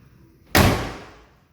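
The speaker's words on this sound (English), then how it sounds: "Door didn't shut all the way." A car door on a 1967 Corvette Sting Ray is swung shut with a single close, sharp slam that decays quickly, heard alone without talk.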